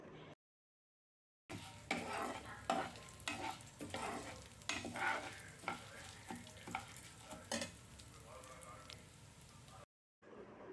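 Toor dal roasts in a pan with cumin, heard as a low sizzle under frequent, fairly quiet scraping and stirring strokes, with brief silent gaps near the start and end.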